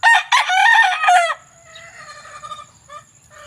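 A backyard broodcock rooster crows loudly and close, one full cock-a-doodle-doo lasting about a second and a half, then quieter clucks and faint bird calls fill the rest.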